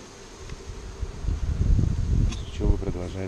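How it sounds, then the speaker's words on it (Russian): Honey bees buzz steadily around a small hive nucleus during a queen check, nearby and moderately loud, with rustling and handling noises toward the end. "Пчелы продолжают работать."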